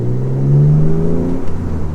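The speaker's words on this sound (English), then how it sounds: "Engine sounds awesome. New stainless steel exhaust, which is great." An Alfa Romeo engine with a new stainless steel exhaust drones loudly close by, its low exhaust note rising briefly in pitch as it revs, then settling back to a rumbling hum.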